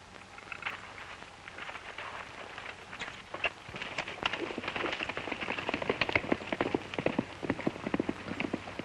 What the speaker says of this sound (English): Say, Stony, how about using your horse? He's faster than mine.